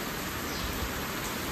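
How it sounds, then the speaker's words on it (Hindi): Heavy rain pours steadily on a farm field, a dense, constant wash of noise with no breaks and no voices. "और इतनी बारिश तेज हो रही है अभी तो"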